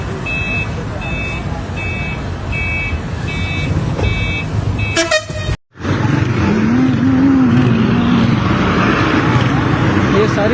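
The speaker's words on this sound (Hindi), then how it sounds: "ये सारी गाड़ियों में रेंजर जा रही हैं जी।" Convoy of Rangers vehicles driving past on a road amid protest tension, with repeated short horn honks in the first half, then a loud whoosh as vehicles pass and continuous traffic rumble; a voice speaks over it.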